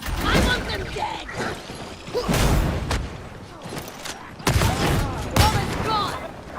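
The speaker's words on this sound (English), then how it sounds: "Grenade!" A grenade blows up in Warhammer 40,000: Darktide amid a combat firefight, with heavy booms and rattling bursts of gunfire close by and voices shouting over the chaos.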